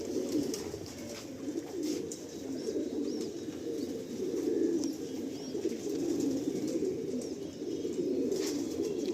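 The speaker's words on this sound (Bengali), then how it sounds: "এখন আর টাইমের সমস্যা, ওড়ানো হয় না আমার ঠিক সেইভাবে" Pigeons coo continuously inside a crowded loft holding hundreds of birds, a dense, throbbing chorus of overlapping low calls that stays close and fairly loud throughout, with faint chirps above it.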